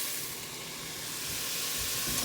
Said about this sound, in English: I'm going to let the onions saute a bit more first.